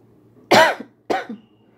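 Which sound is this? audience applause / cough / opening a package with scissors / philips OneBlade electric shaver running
cough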